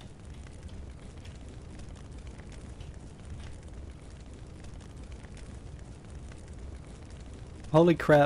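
A fire attack in the video game Huaxia: Warring States produces a low, continuous whooshing rumble and crackle throughout, with a person's startled exclamation near the end.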